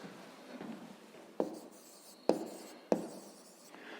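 A pen writes on paper close by: a soft scratchy stretch followed by three distinct strokes, each opening with a crisp tap, quiet and with no voice over it.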